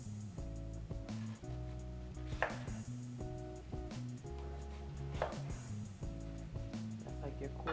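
A knife cuts an apple into slices around the core on a board, a few sharp chopping strikes standing out over steady background music and a voice talking.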